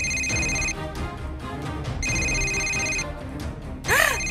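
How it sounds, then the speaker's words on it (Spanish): Telephone ringing in repeated bursts of an electronic ring, with two long tonal rings separated by a short gap, followed by a brief rising chirp near the end; loud and close, with no one talking. "¡El teléfono está sonando otra vez!"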